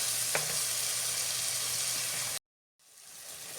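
Masala with tomato and salt frying in a pan, giving a steady, loud sizzle that cuts out abruptly and then slowly returns, fainter at first.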